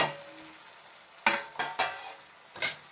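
Chopped tomatoes, half a kilo, tipped into a hot pan for tomato egg curry: a faint sizzle, then four sharp scraping stirs of a spoon against the pan, close and without talk.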